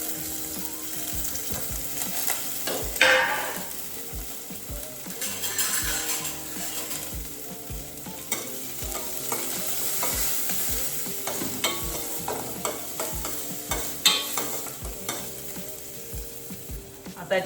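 Finely chopped onion and a slit green chili fry in oil for a Malvani-style mackerel curry, sizzling steadily while a spoon stirs and scrapes the pan, with a few louder clatters along the way.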